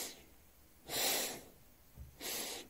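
Breath during a guided Taoist breathing meditation, two slow, airy, close breaths each lasting about half a second, separated by quiet pauses.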